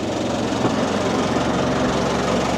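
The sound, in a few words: boat engine running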